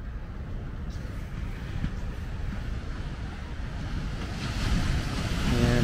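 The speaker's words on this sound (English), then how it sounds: "And waves dropped down a bit since yesterday" Ocean waves break on the shore in a steady wash of surf, building louder toward the end, mixed with wind buffeting the microphone.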